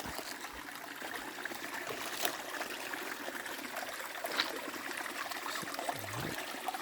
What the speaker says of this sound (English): Nice fresh water, healthy flow